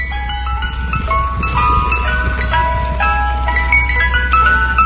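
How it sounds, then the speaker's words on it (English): A Mister Softee ice cream truck blares its jingle loudly and close by, a bright tinkling chime melody playing continuously over low engine rumble. "Damn, Mr. Softy, you too loud."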